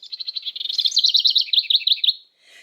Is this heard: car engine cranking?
no